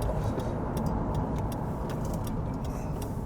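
A car rolls slowly into Newtown Park Farm in the New Forest, once headquarters of the British Steam Car Challenge, with a steady, close engine and tyre rumble and faint ticking over it throughout.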